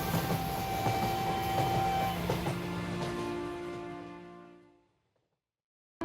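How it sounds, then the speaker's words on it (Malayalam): The slow Nilgiri Mountain Railway toy train in the Western Ghats rumbles along loudly with a rattling clatter, then fades quickly into silence as it moves away. "പതുക്കെ നീങ്ങുന്ന ഈ ടോയ് ട്രെയിൻ യാത്ര വ്യത്യസ്തമായ ഒരു യാത്രാനുഭവമാണ്"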